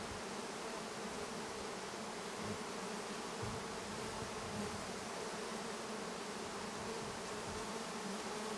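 Honey bees buzzing during a rock honey harvest in the mountains, a dense, continuous droning swarm close by, steady in level for the whole stretch with no talk.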